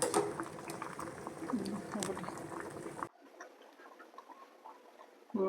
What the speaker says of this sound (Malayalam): കണ്ടോ, നമ്മുടെ കപ്പ നന്നായിട്ട് തിളച്ചു.